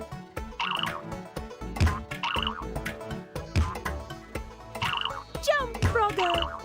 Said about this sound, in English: When standing still in the game, Frogger performs a delayed jump, similar to how a frog jumps